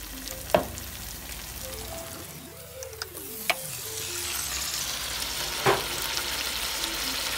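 Beef sizzles steadily in a pan with a soft continuous crackle, broken by a few sharp clinks and scraping stirs of a utensil against the pan, with no talking.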